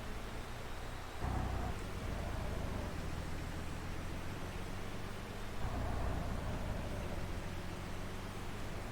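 Steady broadband hiss of rain falling in a video game, constant and fairly loud throughout, with a couple of low rumbling swells underneath and no voices.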